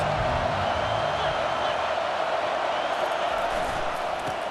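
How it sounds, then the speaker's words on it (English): Stadium crowd at a Clemson vs Arkansas college football game roars steadily on a big third down, a dense, continuous wash of cheering with no clear breaks. "Big 3rd down as the crowd gets behind this defense."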